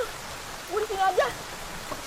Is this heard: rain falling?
yes